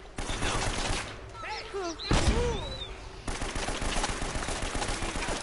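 Rapid, loud bursts of gunfire in Uncharted: Drake's Fortune, chattering continuously with whistling ricochet-like tones mixed in, while a voice talks over the shooting.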